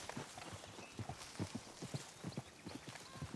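Horses walking close beside a cart give steady, rhythmic hoof clip-clops, fairly near and moderately loud, with no talking over them.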